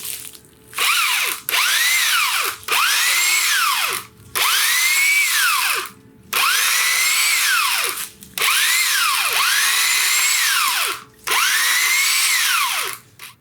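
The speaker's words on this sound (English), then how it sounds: "That is the DEKOPRO 8 amp 10 inch electric pole chainsaw." A DEKOPRO 8 amp 10-inch electric pole chainsaw revs in repeated bursts while cutting tree limbs, whining up and down as it cuts, with short pauses between each loud cut.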